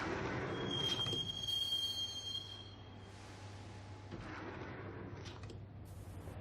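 A subway train ride in Max Payne rumbles on steadily with a continuous low roar, a thin metallic wheel squeal in the opening seconds and faint rattling of the railcar, with no one speaking.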